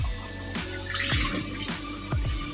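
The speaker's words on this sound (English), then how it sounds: "You wash it right away with hot water" Hot water running from a tap over a milk frother whisk, a steady close splash with a few clunks as the whisk knocks against the sink.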